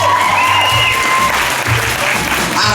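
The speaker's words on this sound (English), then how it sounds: "round of applause if you've seen our show here before" Loud, steady applause from a magic show audience at Silverwood Theme Park fills the whole stretch, with a few voices mixed faintly into the clapping.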